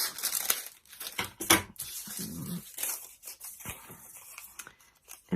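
Scissors snip through paper while cutting pieces for a paper pine cone, a run of close, crisp cuts and rustles with short pauses between snips.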